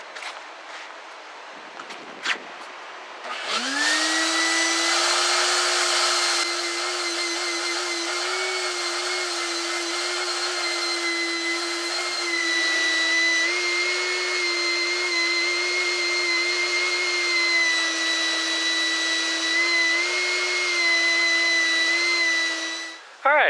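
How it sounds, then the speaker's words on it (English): A vacuum cleaner starts up after brief handling noises and runs steadily and loud for about twenty seconds while cleaning out the interior of a 1969 Ford Club Wagon, its motor whine holding a constant pitch before cutting off at the end. "Now time to vacuum it out."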